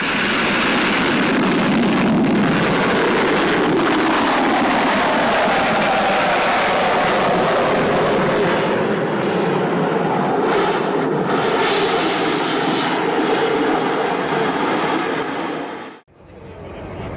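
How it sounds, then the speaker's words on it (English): Harrier jet making a near vertical takeoff from a ship: a loud, continuous roaring jet engine with broadband thrust noise throughout, which cuts off abruptly near the end. "A near vertical takeoff from a ship in a Harrier jet is a maneuver that demands great precision and skill from the pilot."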